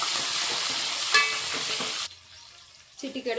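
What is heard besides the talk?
frying cumin, onion and green chillies in pan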